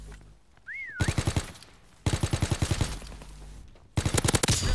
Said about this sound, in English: I was shooting something on the ground